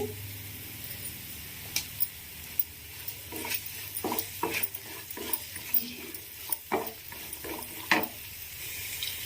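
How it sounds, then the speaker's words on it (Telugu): Ridge gourd with turmeric fries quietly in a pan, a faint sizzle under repeated scraping and clinking strokes of a spoon, scattered and irregular. "ఇవన్నీ కూడా మంచిగా కలర్ వచ్చేంత వరకు కూడా వేయించుకోవాలి."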